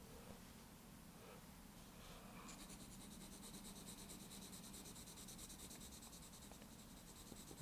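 Graphite pencil shading a smooth value gradient on paper with even pressure, a steady soft scratchy rubbing that continues close and quiet throughout without any talk.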